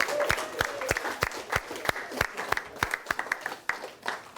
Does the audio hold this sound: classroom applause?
yes